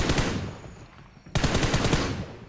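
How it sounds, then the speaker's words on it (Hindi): Continuous automatic gunfire from a glitched weapon in the mobile shooter BGMI, a dense unbroken rapid stream that dips briefly midway then resumes loud and steady. "उसमें क्या ग्लिच हो रहा है, जो कि मतलब फायरिंग नहीं रुकता है"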